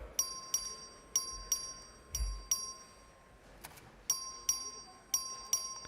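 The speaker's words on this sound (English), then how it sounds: "The clerk will ring the bell." Clerk's bell sounding for a House record vote in a legislative chamber, a series of short, bright repeated dings in irregular clusters over a quiet room, with a sustained faint tone running beneath.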